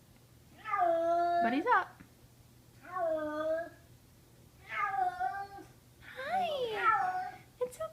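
A distressed kitten screams and meows in four loud, drawn-out bursts spaced through the clip, each wavering and harsh, with a person briefly talking close by.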